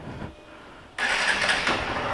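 A 2013 Honda Fan 150 motorcycle's repaired electric starter catches after a quiet moment, and the engine abruptly roars to life and settles into a steady mid-pitched idle close by.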